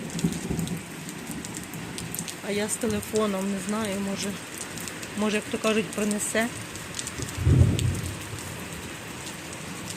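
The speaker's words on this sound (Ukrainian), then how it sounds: "Боже, гримить." Steady rain falls outdoors during a storm, with a low rumble of thunder rising near the end, while someone talks over it.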